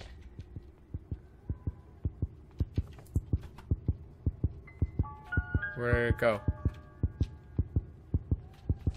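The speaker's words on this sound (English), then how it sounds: "I hate the sound of a heart beating" Steady, rhythmic heartbeat thuds from the horror video game Granny pulse evenly through the clip at a moderate pace, with a brief muffled voice speaking midway over the beating.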